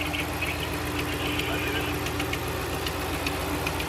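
A truck's 5.7 HEMI engine idles roughly with a steady low rumble and faint ticking knock, continuous and close.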